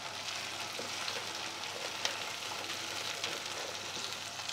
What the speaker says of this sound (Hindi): टमाटर पेस्ट डालने के बाद हम 3 से 4 मिनट मीडियम हाई फ्लेम में भूनेंगे